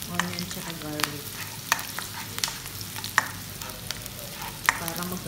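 Onion and garlic sautéing together in a pan, a soft steady sizzle broken by sharp clicks and scrapes of a utensil stirring against the pan.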